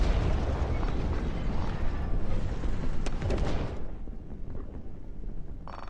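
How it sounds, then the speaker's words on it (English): Howitzer artillery shells explode in the Dust Front RTS game, a dense rolling barrage of booms and bursts that rumbles continuously and loudly before thinning out toward the end. "Those Howitzers are still raining pain down on that section."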